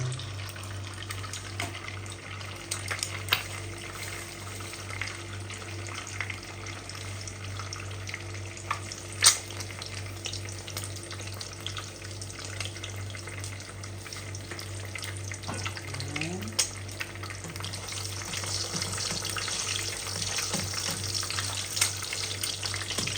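Eggs fry over low heat in a pan, a continuous soft sizzle with occasional light clinks and scrapes, close and steady throughout with a constant low hum behind it.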